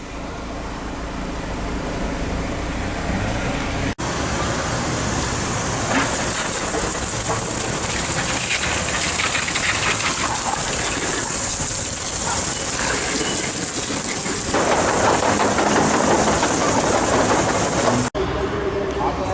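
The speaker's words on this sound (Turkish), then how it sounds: "Şimdi motoru yıkamaya geçelim." Water jet washing the engine bay of a VW Amarok, a steady loud broadband hiss and spray running almost continuously for about fifteen seconds, with intermittent voices mixed in.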